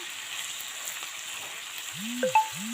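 Something fries in a pan while a spicy sea fish curry is cooked at home, a soft steady sizzle close by, with a couple of brief clinks near the end.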